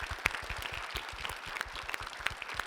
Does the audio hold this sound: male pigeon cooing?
no